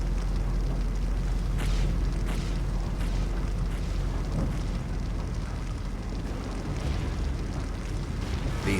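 Turret guns firing in the video game Yager, a run of heavy booming blasts repeating over a dense roaring din, with no voices.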